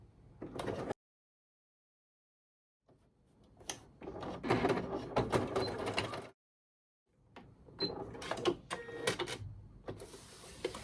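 A domestic sewing machine stitches a mini thermal bag in short bursts of fast mechanical whirring, separated by pauses of near silence. The runs are close and fairly loud.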